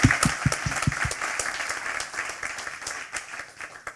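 Applause from an audience at a Skewb company gathering, a dense round of clapping that starts loud and close, then settles into a steady, slightly fading wash.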